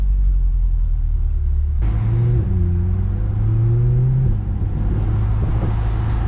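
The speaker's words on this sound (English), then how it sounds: "And as you can hear, the exhaust is definitely louder now." Corvette C8 with an AWE aftermarket exhaust switched into sport mode, a loud, steady low rumble with the engine note rising and holding in revs, no talking.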